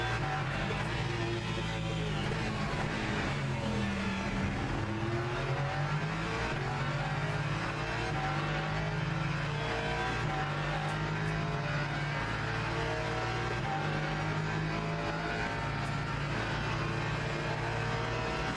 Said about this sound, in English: Ford sounds so good